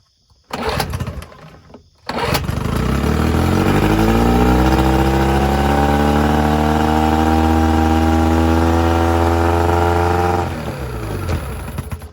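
An old Evinrude/Johnson outboard motor catches after a pull start with the choke on, then runs loud and steady for about eight seconds before its note drops away.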